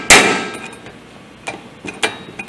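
A hammer taps a loose flywheel nut, giving one loud metallic clang followed by several lighter, sharp taps at close range, with no talk.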